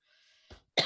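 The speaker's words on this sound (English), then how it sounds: "Excuse the coughing." A single short cough bursts out close and sharp after a faint breathy hiss, followed by a second louder, rougher cough.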